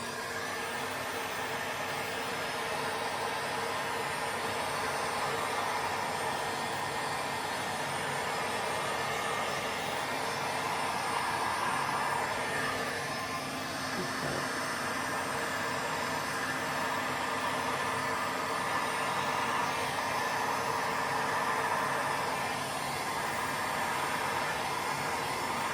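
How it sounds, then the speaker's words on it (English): A heat gun blows hot air over a coffee table being refinished, giving a loud, unbroken whooshing roar that holds steady for the whole stretch with no voices. "I've just got the heat gun and I'm just going to heat it up and blow it."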